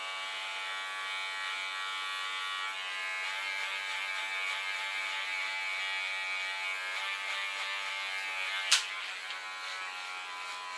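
Electric hair clippers buzz steadily near the nape during a side and nape shave, a close, even hum with one brief sharp click near the end.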